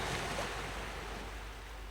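Ocean waves wash and break in a continuous soft hiss, faint and distant, with no voices.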